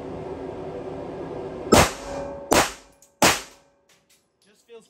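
Three sharp gunshots from a Division 3 custom Glock 19 pistol fired at a range, spaced under a second apart, loud and close, with a faint low background hum before the first shot.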